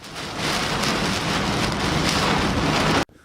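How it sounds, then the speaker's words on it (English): Heavy rain from a brutal thunderstorm pounds a vehicle during a drive, a loud steady roar of downpour with gusty swells, cutting off abruptly at the end; no one speaks. "This drive is not for the faint of heart, caught in the wrath of a brutal storm."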